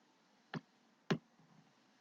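Two sharp computer mouse clicks about half a second apart, close and crisp in a quiet room with no talking.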